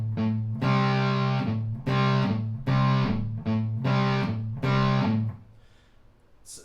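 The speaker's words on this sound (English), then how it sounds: "I'm just going to play this several times with both of these power chords" Distorted electric guitar playing a power chord riff, with five or six chunky, sustained chord hits in an uneven rhythm, loud and close, ending in a short decay.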